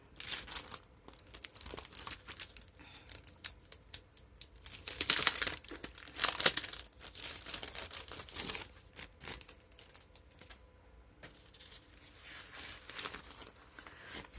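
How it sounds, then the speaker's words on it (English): Paper pieces for decoupage being cut and handled, giving close crinkling and crisp snipping sounds in irregular bursts, louder in the middle and fading toward the end. "I'm going to go ahead and cut my pieces"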